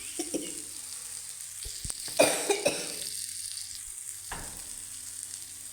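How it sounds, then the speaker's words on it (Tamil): Fish frying in a pan gives a steady sizzle, with scattered louder pops and clatter around the middle and brief coughs or throat sounds near the start and end. "மீன் வறுத்துட்டேன்."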